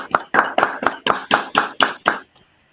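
Eight sharp, evenly spaced claps ring out close by after an academic talk on medicine and artificial intelligence, then stop abruptly, leaving a short quiet tail.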